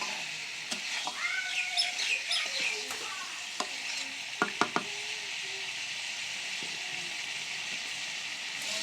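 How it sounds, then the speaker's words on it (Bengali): Fried potato and pointed gourd stirred into a sizzling beef curry pan, a steady frying hiss with scraping stir strokes and a few knocks of the spoon against the pan. "এখন আমি এর ভিতর ভাজা আলু পটল দিয়ে দিলাম, দিয়ে নাড়ে চাড়ে"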